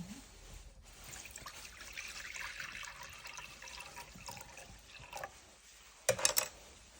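Water being poured for a new moon ritual, a soft continuous trickle and splash close by, ending in a brief louder splash near the end.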